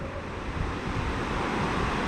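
River current rushing over rocks at a shallow crossing during an off-road motorcycle ride, a steady, loud broadband wash filling the whole clip with no talk.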